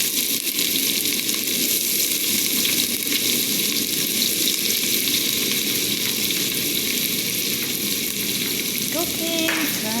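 Garlic and onion frying in a pan for a chicken dish, a dense, loud, continuous sizzle close by, with a few faint clinks near the end.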